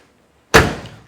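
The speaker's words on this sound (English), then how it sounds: "Door shuts real nice and tight." The door of a 1969 Chevrolet Camaro RS/SS slams shut with a single solid, close thud that rings out briefly and fades over about half a second.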